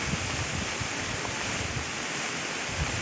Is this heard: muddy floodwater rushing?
yes